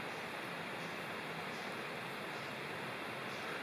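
Steady broadband rushing of the Big South Fork river, continuous and even, heard from some distance below, with no voices.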